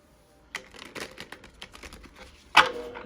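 Tarot cards being shuffled, a burst of quick riffling clicks and soft flutters up close, then a pause and a sharper snap of cards near the end.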